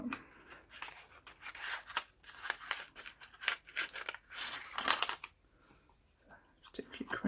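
Scissors cut through crinkly copy die paper up close, giving a run of quick irregular snips mixed with papery crackling and rustling, then a short pause before more handling noise.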